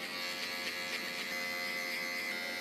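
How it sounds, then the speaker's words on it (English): Electric shaver buzzing steadily and close during a fade haircut, a continuous unbroken drone with no talk over it. "For a clean look, skip to your shaver."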